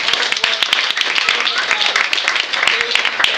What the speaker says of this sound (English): let's give them a big round of applause for the hard